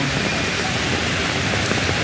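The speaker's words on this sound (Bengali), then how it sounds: "জলের বৃষ্টি" Heavy rain pours steadily on the way back from the office, a dense, even roar of falling water with no breaks, close and loud.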